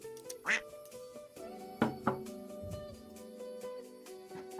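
A duck quacking sound effect plays a few short, bright quacks in quick bursts over a busy background of tones and clatter, with no talking.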